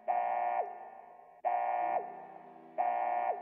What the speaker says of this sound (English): Vault door alarm.